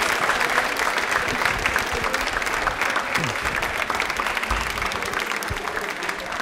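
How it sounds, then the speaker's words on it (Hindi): A studio audience claps loudly after a correct answer at a televised quiz for Birsa Munda Jayanti and Janjatiya Gaurav Divas. The clapping is dense and continuous, with faint background voices mixed in. "तो तालियां एक बार बजा दीजिए जोरों वाली।"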